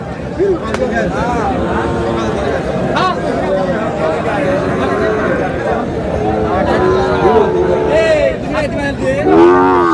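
Sahiwal cattle at a livestock market moo loudly and repeatedly, several nearby lowing calls overlapping amid crowd chatter.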